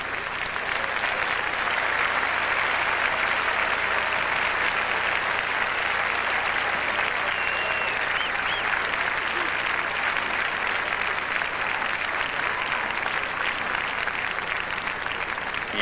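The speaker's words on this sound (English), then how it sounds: "let's have a nice round of applause as our couples take their places" Audience applause at a 1999 ballroom dancing championship awards ceremony for the International Standard group competition, a dense, steady wash of clapping from a large crowd filling the hall without a break.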